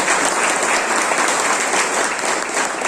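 A crowd at an Eazyways national EMI tour event in Jim Corbett National Park, Uttarakhand, gives loud, dense applause for its diamond-rank achievers, an unbroken burst of clapping lasting about three seconds.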